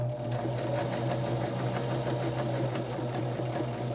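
A sewing machine runs steadily while stitching a quilt block seam, a close, continuous rapid whir with evenly spaced needle clicks and no talking.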